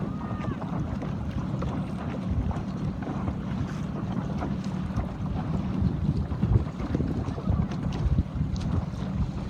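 Steady wind rushes past a Sabot dinghy sailing in a regatta, a continuous broadband roar with gusty low rumble and water noise, loud and unbroken throughout.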